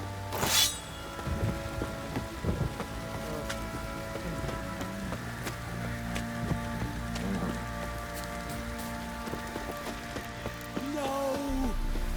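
Steady rain in the video game The Witcher 3: Wild Hunt patters and drips over a low rumble, with a sharp splash near the start and a deeper thud near the end.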